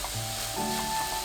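Cabbage and perilla leaves stir-frying in a pan with perilla seed powder, a steady soft sizzle with faint scraping of stirring throughout, alone without talk.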